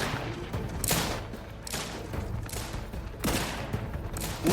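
Gunfire in the sci-fi shooter The Outer Worlds 2 comes as repeated loud volleys of shots, rattling bursts clustering across a few seconds in a busy firefight.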